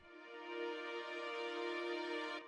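A sustained orchestral strings preset from a Native Instruments Kontakt sample library holds one steady, bright chord for about two seconds, then cuts off cleanly, heard alone.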